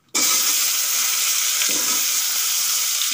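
Potato pieces fry in oil left over from frying tilapia, starting with a sudden burst and then settling into a loud, even crackling sizzle, close and uninterrupted.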